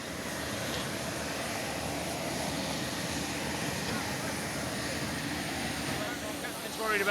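Light aircraft piloted in to land near a wildlife sanctuary in England, its steady engine drone filling the whole stretch at moderate distance, broadband and unbroken with slight swells.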